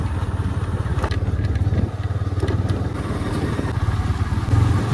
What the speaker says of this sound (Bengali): এখন আমি বাইক নিয়ে বেরিয়ে গেছি